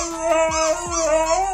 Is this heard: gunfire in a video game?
no